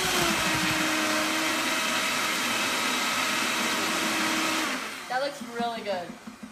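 A blender whirs loudly as it blends ice for an avocado margarita sorbet, a steady motor drone that runs for several seconds and then cuts out, followed by a voice talking.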